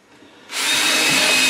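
A power drill bores a pilot hole into the end of a wooden slat while building a casting sifter for a mortar tray, starting after a short quiet moment and then whirring loud and steady up close.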